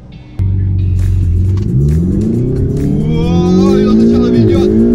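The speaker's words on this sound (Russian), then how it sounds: "Феррари, 670 сил, разгон до 100 с нуля" A 670 hp Ferrari sports car launching hard from a standstill, its engine suddenly bursting into a loud rising roar that climbs steadily through the revs over several seconds.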